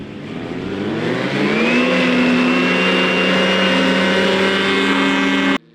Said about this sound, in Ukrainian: Дієвим є і спеціальний катер аероглісер.